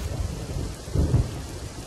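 Steady rain falls in an animated scene, and a low, rumbling roll of thunder swells briefly at the middle before the quiet downpour continues.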